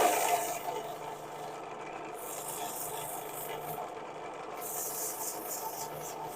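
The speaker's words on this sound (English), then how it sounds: "Okay, so that's all I can do for the sanding at least" Sandpaper rubbing against a spinning wood-turned piece on a lathe, a soft continuous raspy hiss that surges and eases in long strokes, fairly quiet and without talk.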